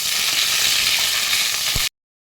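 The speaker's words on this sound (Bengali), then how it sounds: "ফুলকপিগুলো আমার ভাজা হয়ে গেছে" Steady, dense sizzling of cauliflower frying in hot oil, close and fairly loud, stopping abruptly near the end.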